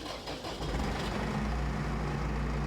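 A tractor engine in Farming Simulator 25 runs as a continuous low diesel drone, steady and fairly loud, rising slightly after a brief dip near the start.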